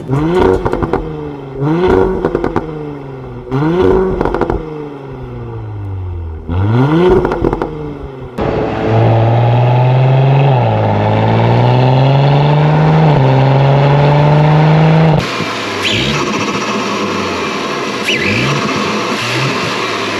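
An Audi S5 B9 with a non-stock exhaust revs in several sharp bursts, then pulls through a long rising acceleration with a deep exhaust note, loud and close.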